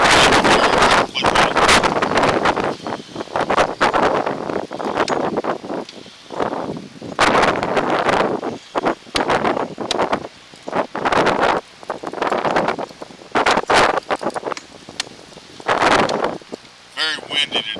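Strong outdoor wind buffets the microphone in loud, uneven gusts and roaring bursts that come and go throughout, with a person talking in between.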